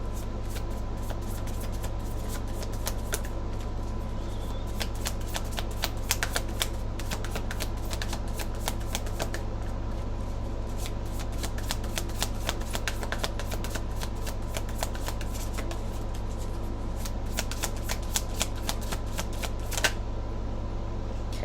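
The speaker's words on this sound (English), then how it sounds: "So I got 2 cards here." Tarot cards being shuffled by hand, a steady stream of crisp riffling clicks and flutters over about twenty seconds, close and fairly quiet, with a low constant hum underneath and no talking.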